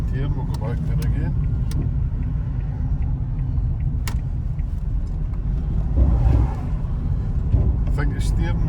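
Salvage car with very low mileage, left sitting for a year, rumbles along a road and turns around, with a steady engine and road drone heard from inside the cabin and a voice talking over it.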